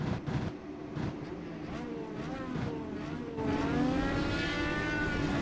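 An iRacing race car running slowly down pit road, with its tires squeaking in rising and falling squeals over a steady engine drone that grows louder late in the clip.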